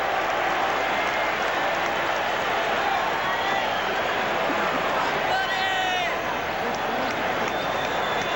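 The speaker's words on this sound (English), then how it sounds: "Crowd chanting, buddy, buddy." A 1985 World Series baseball stadium crowd at Kansas City roaring in a dense, continuous wash of cheering and chanting "Buddy", loud and unbroken, heard from within the stands.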